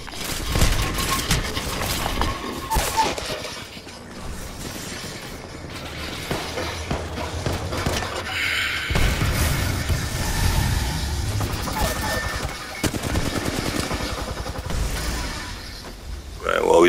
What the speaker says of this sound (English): Gator's throwing a grenade